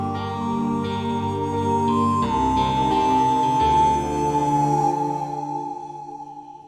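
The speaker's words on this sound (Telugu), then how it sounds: "ఎవరో ఫోన్ రా." A mobile phone ringing with a melodic electronic ringtone, sustained stepped tones that play clearly and alone, then fade out toward the end.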